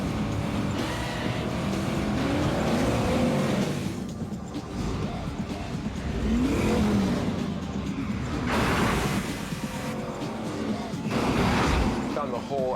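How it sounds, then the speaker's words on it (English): A film car chase from Gone in 60 Seconds: loud engines roar and surge as cars race past, with squealing tires in swelling waves and a voice speaking over the action. "he's got a very, very exciting car chase"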